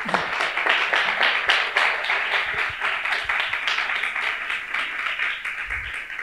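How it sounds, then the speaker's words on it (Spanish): Audience applause at an awards event announcing winning pitch projects: dense, steady clapping from a crowd that tapers slightly near the end, with no talking over it. "Un aplauso."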